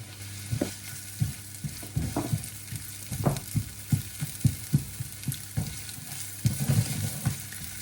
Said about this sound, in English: Now that it has heated up, we're going to add the onion, chopped onion.